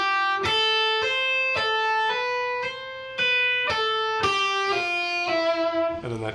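A slow electric guitar lick of hammer-ons and pull-offs, each clear note struck or sounded one at a time at an unhurried, even pace, ringing close and alone with no voice, the last notes trailing off quickly.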